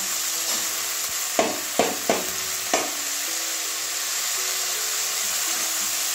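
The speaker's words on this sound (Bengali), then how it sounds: "এবারে দিয়ে রাখা বাঁধাকপি, আলু, গাজর সব এবারে দিয়ে দেবো।" Cabbage, potato and carrot frying in hot oil with spiced masala, a steady close sizzle broken by a few sharp scraping stirs of a spatula against the pan.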